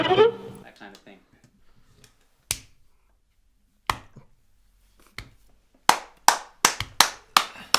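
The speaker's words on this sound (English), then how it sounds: "Oh, I can clap 15 claps a second, right?" Hand clapping, at first sparse single claps spaced apart, then a quick run of sharp claps near the end, close and dry, following a brief stretch of talk at the start.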